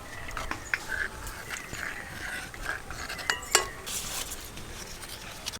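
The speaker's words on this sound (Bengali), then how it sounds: "দুধের সর একটু ভালো করে দুধে গুলিয়ে নেব" Milk cream being stirred into milk in a pot while making sweet sar doi, with soft scraping and occasional sharp clinks of a spoon against metal, fairly quiet and close, no talk.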